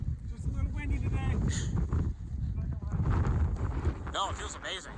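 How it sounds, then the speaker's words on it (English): Strong gusts buffet the microphone on a mountain trail along the Appalachian Trail, a constant rough roar with a person talking over it. "Just a little windy today."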